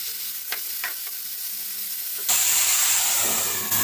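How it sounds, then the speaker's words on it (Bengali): Broad beans (sheem) fry in oil in a covered pan with a steady, even sizzle that suddenly jumps louder and brighter partway through, and no one speaks. "আমি শিমগুলো হালকা লাল করে ভেজে নেব। ঢাকা দিয়ে ভাজলে শিমগুলো তাড়াতাড়ি সিদ্ধ হয়ে যাবে।"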